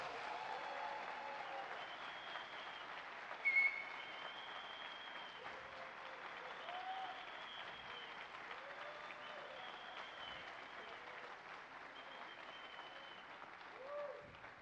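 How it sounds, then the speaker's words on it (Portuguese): A church congregation applauds the couples at a service, steady sustained clapping filling the room at moderate level, with a brief louder burst partway through and no clear talking over it. "Agora a igreja pode aplaudir os casais"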